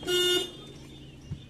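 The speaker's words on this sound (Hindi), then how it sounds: "2 बार हॉर्न" A single short, bright toot from an Alto VX car's horn sounds close by, then fades into a quiet idling hum.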